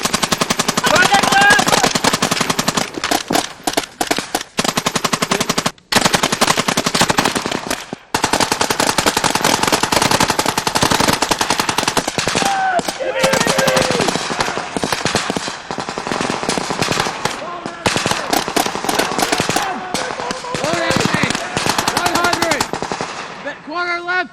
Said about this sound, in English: It begins to cross it and comes under direct fire from OP4 troops.